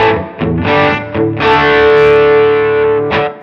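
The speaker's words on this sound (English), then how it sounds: "Now these also have a little bit of reverb." Several distorted electric guitar chords are struck in a loose rhythm, the last one held long, each trailing off with a soft reverberant tail.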